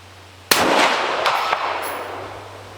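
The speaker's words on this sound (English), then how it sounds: "I've decided I'm going to take the shot." A single sharp rifle shot cracks out loud and close on a shooting range during practice, a Spartan Precision bipod in use, its report ringing and decaying over the next two seconds with a faint echoing tail.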